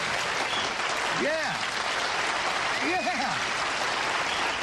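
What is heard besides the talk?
studio audience applause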